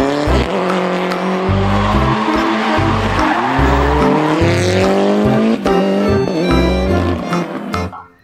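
Race car engine roaring at high revs with squealing tires, loud and continuous with rising and falling pitch through gear changes, fading out at the end.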